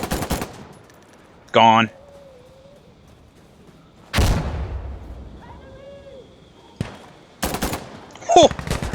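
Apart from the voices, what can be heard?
gunfire in the video game Insurgency: Sandstorm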